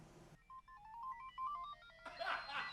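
A mobile phone rings with an incoming call, a quiet electronic melody of short beeping tones. A burst of noise cuts in before and after it.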